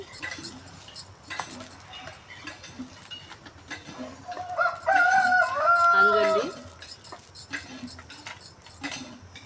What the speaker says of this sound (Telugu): మా ఇంటి ముందు ఉన్నాయి కదా కోళ్ళు